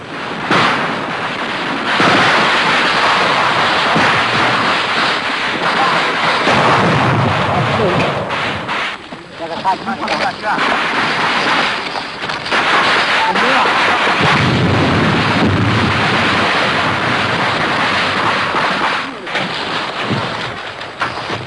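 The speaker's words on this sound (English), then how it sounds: "The mortar is reset. Another barrage begins." Mortar barrage fired during fighting in Burma's Karen conflict, heard as continuous loud, rumbling booms and crackling blasts that roll on throughout, with dense noisy bursts and brief dips between volleys.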